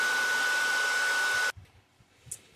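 A hair dryer blows steadily on a gourd to set wet black ink, a loud even whoosh that cuts off abruptly, leaving faint handling noises.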